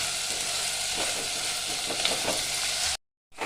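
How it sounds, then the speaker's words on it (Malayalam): Vegetables with tomato and asafoetida sauté in a pan, giving a dense, steady frying hiss close up with faint stirring scrapes, before the sound cuts out briefly near the end. "കായും ഇട്ട് കൊടുക്കാം ശേഷം നമുക്ക് ഇത് നന്നായിട്ട് വയറ്റി എടുക്കാം"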